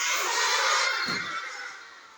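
A horse neighs loudly and close, one drawn-out whinny filling the moment with no speech over it.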